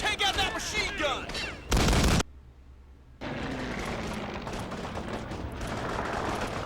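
Gunfire from the Call of Duty: Big Red One video game, with bursts of shots, a loud blast, a short quiet gap, then sustained battle noise. Someone talks over the opening stretch.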